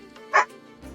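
A dog gives a single short, sharp bark indoors, brief and moderately close, with faint background noise around it.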